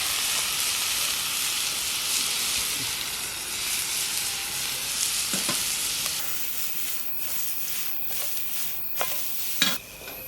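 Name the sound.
meat sizzling on a direct-fire grill while camping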